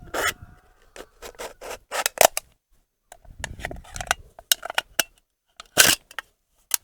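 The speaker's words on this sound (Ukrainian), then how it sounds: "Давайте ще покажу вам, як він ріже банку нон-стопа" A Ukrainian-made "Narodny" knife by Ingul slices into a Non-Stop energy drink can, giving sharp, rasping metallic scrapes and crunches in quick irregular bursts separated by short pauses.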